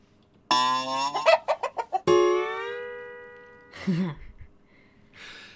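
A rooster-like crow rings out, then a burst of rapid clucks and a long drawn call, with a short gargling cluck near the end; cartoonish and clear.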